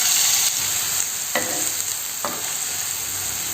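Chopped onion fries in hot oil with a steady, bright sizzle throughout, broken by two short scraping stirs from a spoon in the pan, with no talking.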